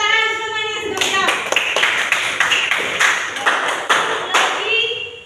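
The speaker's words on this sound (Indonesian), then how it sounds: "Ya, tepuk tangan semuanya sudah siap" A classroom of students claps hands together in a lively burst of quick, loud, uneven claps lasting a few seconds, following a teacher's voice.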